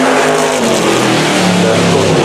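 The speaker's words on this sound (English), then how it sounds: "The F1 car, not made for races." A Williams Formula 1 car, the W08, howls past at the Festival of Speed, its engine a loud, sustained high-revving roar with the pitch shifting as it goes by.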